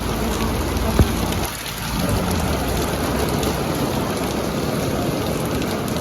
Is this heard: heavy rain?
yes